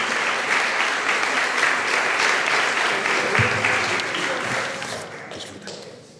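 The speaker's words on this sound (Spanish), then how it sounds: "Un fuerte aplauso, por favor." Audience at a literary poetry contest in La Orotava breaks into sustained, dense applause that tapers off over the final second or two, with no talking.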